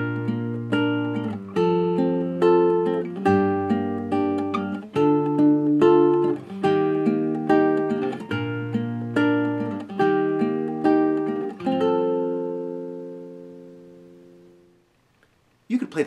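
An acoustic guitar strums the chord progression from a song in a steady rhythmic pattern. The chords ring clearly for about twelve seconds and then let a final chord decay into silence, and no voice is heard.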